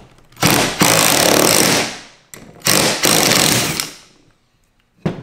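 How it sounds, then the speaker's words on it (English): A drill running in reverse drives a universal socket to back out a tight bolt, loud sustained whirring bursts: two long runs of about a second and a half each, separated by short stops, then a brief final burst. "So I'm just gonna go ahead and throw this in reverse and see if I can back out this bolt."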